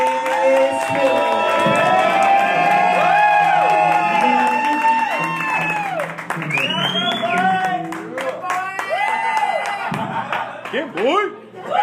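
A live studio audience claps and cheers loudly for a guest on a late-night comedy show. The applause is dense and sustained, with whoops and shouts over it, and it fades slightly before another surge of cheering.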